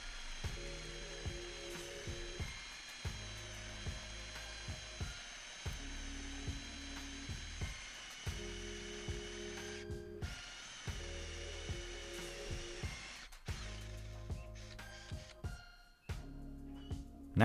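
A Ferrex 20V cordless impact drill from Aldi bores with a 25mm spade bit, repeated pulsing whine-and-rattle bursts of steady motor tone, close and continuous with brief pauses, no talking.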